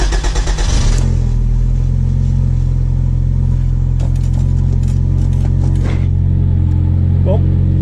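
A Toyota MR2 AW11 turbo engine cranks with a rapid starter chug, then catches and settles into a loud, steady idle with a low rumble.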